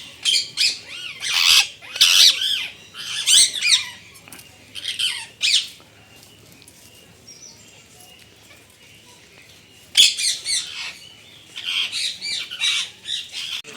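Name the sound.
house sparrows calling at zoo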